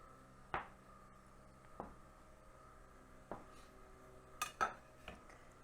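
Pumpkin scone dough set down on a metal baking pan in a home kitchen, giving a handful of soft, separate knocks and light clinks spaced a second or so apart against a quiet background.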